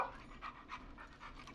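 Dog panting in the video game Killer Frequency, a quick rhythmic series of soft breathy pants, fairly faint and steady, with no talking over it.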